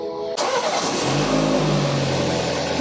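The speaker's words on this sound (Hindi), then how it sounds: "गाड़ी का इंजन चालू हो गया" A BMW 530i M Sport engine starting by remote with nobody inside, firing abruptly and then settling into a steady, loud idle close by.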